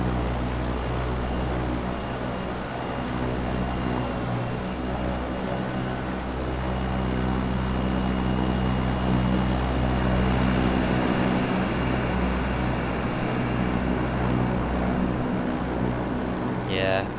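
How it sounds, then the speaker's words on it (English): Turboprop aircraft engines in Microsoft Flight Simulator make a loud, steady, continuous drone with a constant whine. The sound holds level throughout without a break. "I can really hear a turboprop over here as well. You can't miss turboprops, they're so loud"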